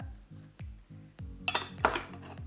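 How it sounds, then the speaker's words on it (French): A cookware lid is lifted with a few light metallic clinks and taps, preceded by soft rhythmic knocks, close and fairly quiet with no voices. "Ensuite, on va prendre, hop, le couvercle"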